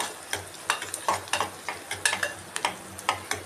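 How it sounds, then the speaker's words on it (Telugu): Gongura leaves being stirred into a curry cooking in a pan, a spoon scraping in irregular strokes roughly three times a second over a soft sizzle, close and alone without talk. "గోంగూర కలుపుతాను నేను ఇట్లా"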